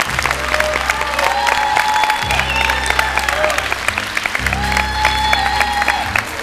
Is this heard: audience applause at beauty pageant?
yes